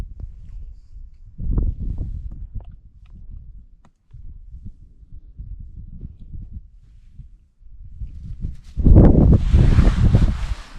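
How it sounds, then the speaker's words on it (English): Wind gusts buffet the microphone on a Lake District hillside, rough low rumbling bursts that rise and fall, swelling into a stronger, hissing gust near the end. "just a shame about that wind"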